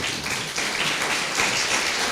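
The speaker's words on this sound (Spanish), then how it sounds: "Dale un aplauso al Señor." A church congregation applauding together, a steady dense wash of clapping that holds at an even level throughout, with faint voices mixed in.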